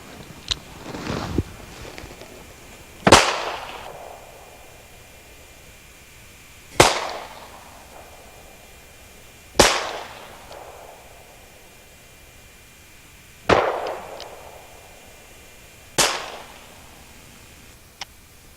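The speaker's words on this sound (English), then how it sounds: "let's see how much more enjoyable it would be to shoot a gun with 44 Specials, which is the lighter velocity load" Handgun firing .44 Special loads, the lighter-velocity cartridge, with five sharp, loud shots spaced several seconds apart, each followed by a short decaying echo.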